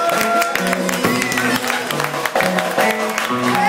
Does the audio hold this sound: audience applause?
yes